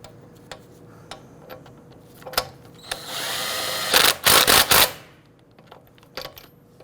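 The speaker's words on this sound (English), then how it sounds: "Go ahead and torque down your lug nuts to 80 foot-pounds" Lug nuts on a 2008-2013 Infiniti G37 being tightened, with scattered sharp ticks and clicks, then a loud sustained whirring burst broken into short pulses near the end, close-up with no talking.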